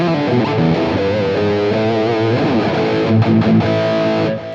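A heavily distorted electric guitar played through a Mesa Boogie JP-2C amp capture on ToneX, set to channel 3 with high gain and sounding dark, chugs and plays a thick riff with held chords, close and alone.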